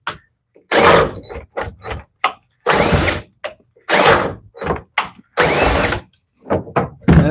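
A cordless drill with a dying battery whirs in repeated short bursts, biting into a bathroom wall with stops and starts between loud grinding pushes.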